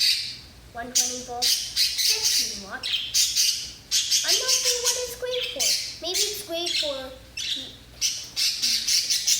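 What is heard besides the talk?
pet birds squawking and chirping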